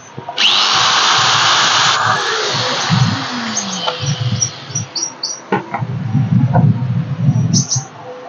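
A 720 W power tool, likely an angle grinder with a 10 mm shaft and 100 mm disc, revs up loudly, runs with a steady whine, then winds down, followed by clatter and handling noises.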